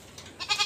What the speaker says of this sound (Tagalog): Ito yung mga kambing natin, oh.